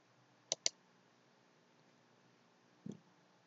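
A few sharp computer mouse clicks while setting up a Windows 10 virtual machine: a quick double click near the start, then a single softer click a couple of seconds later, quiet and close in a silent room.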